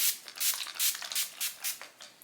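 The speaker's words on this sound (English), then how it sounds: "All I'm going to do though is put on some SOS spray." Hypochlorous acid facial spray misted from a pump bottle, several short breathy hisses in quick succession, close and fairly soft, with no voices.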